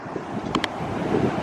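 Strong wind buffets the microphone on a breezy beach at Isle of Palms, South Carolina, a steady broadband roar throughout with a couple of brief faint tonal blips near the start and no voices.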